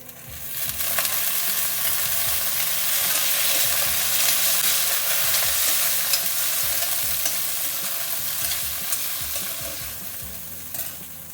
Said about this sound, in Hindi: तो अब सबसे पहले मैं वो सब्जियां डालूंगी जो देर से गलती हैं, जैसे गाजर, बीन्स और मटर।